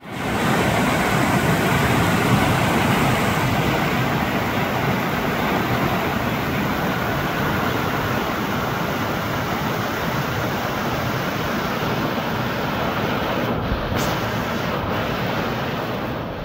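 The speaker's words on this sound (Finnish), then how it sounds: "Ei kuulu muuta kuin ton joen kosken lähestyminen" Roaring river rapids rush close by in a loud, unbroken wash of white water, steady from start to finish with no voices over it.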